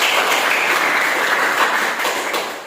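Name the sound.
classroom applause for presenting group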